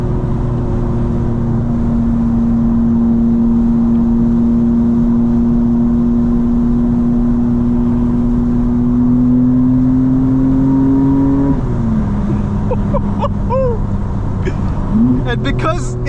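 BMW 2025 M4 CS engine droning loud and steady while driving beneath a bridge, pitch slowly rising then dropping as it shifts, with sharp crackles and pops near the end; a voice talks over it.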